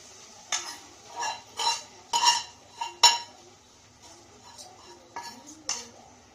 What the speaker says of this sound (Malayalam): ഇപ്പം താളിച്ച ഉള്ളി നമുക്ക് മീൻ കറിയിലേക്ക് ചേർത്ത് കൊടുക്കാം